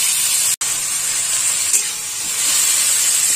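Tomato fries in a little oil in a pan over low heat, a bright, steady sizzling hiss close by, briefly cut off for an instant early on before continuing unbroken.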